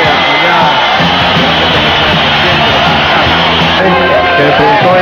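A football stadium crowd roars and cheers after a penalty in a 1987 final shootout, with loud, dense shouting and whoops close and continuous throughout, the stands in full jubilant noise.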